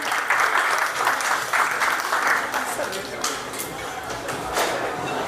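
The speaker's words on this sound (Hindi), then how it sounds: "कृपया जोरदार तालियां बजा दें।" An audience at a retirement function applauds loudly for a former DGS, a dense continuous clatter of many hands that fades slightly toward the end, with some voices mixed in.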